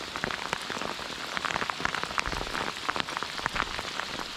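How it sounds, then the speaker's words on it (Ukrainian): Heavy rain pours down outdoors during a pike fishing trip, a dense, constant patter of drops striking surfaces close by, loud and unbroken throughout. "Дощ, звичайно, такий мощний"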